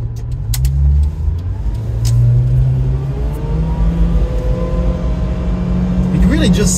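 A supercharged 1997 Subaru Sambar Dias II van drives along with a steady mid-range engine hum and road rumble throughout, rising slightly in pitch near the end, while people talk inside the cabin.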